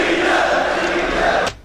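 A live crowd at a rap battle cheers and shouts for a rapper, a loud sustained roar of many voices that cuts off abruptly at the end.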